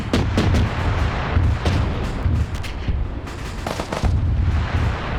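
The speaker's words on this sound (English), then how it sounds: "There's the autocannon." A video game autocannon fires repeated heavy, booming rounds in rapid bursts, loud and close, with rumbling impacts between the shots.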